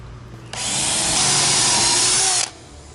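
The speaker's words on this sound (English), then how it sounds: "spin your drill in reverse" A power drill spins in reverse to back rivets out during a Com-Pac 16 sailboat restoration, a close, loud whir starting abruptly, holding steady for about two seconds, then cutting off.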